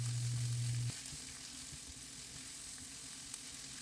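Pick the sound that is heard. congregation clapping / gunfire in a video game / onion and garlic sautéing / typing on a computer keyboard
onion and garlic sautéing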